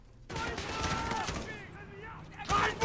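Rapid bursts of video game gunfire crackle through a chaotic firefight, with overlapping shots, a loud burst near the end, and a voice talking over the action.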